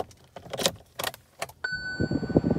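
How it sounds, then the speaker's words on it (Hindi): A key slides into the ignition of a 2021 Kia Seltos HTE base model: a few short metallic clicks and jangles close up, followed by a steady electronic chime tone as the car powers on, with low cabin rustling. "की को इंसर्ट कर लेता हूँ मैं यहाँ पे"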